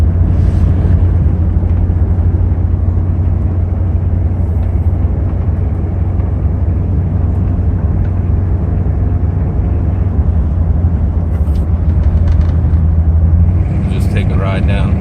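1970s custom Chevy van cruising down the road, a constant loud low engine drone and road rumble heard from inside the cab, steady throughout with a slight change near the end.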